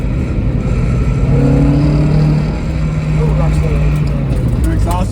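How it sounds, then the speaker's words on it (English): An NB Mazda Miata fitted with a quiet Flying Miata exhaust drives along, its low engine drone steady and close, with a brief rise in pitch midway under continuous talking. "I on purpose installed a fairly quiet, relatively quiet exhaust from Flying Miata."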